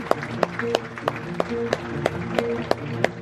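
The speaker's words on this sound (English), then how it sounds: "let's give a nice big round of applause and welcome to the stage" An audience claps for a band as it is welcomed onto a stage aboard the Queen Anne cruise ship. Steady, fairly close applause carries sharp clap peaks roughly every third of a second, with no talk over it.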